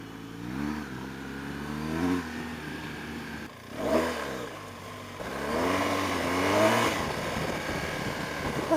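A 2016 BMW R1200GS motorcycle engine revs repeatedly, rising and falling in pitch with a strong harmonic drone, loud and close, with a sharper surge near the end.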